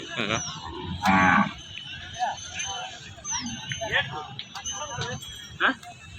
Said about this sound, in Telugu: ఎద్దులు కూడా ఉన్నాయి చూపిస్తాను